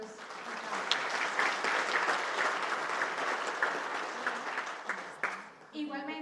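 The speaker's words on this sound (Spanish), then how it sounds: "Un aplauso, por favor, para nuestros invitados" Audience applause for guests at an event, a steady dense clapping wash that holds for about five seconds, then fades as a voice begins speaking at the end.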